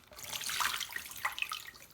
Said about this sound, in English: I'm going to pour out some of the water before I pour it out into her.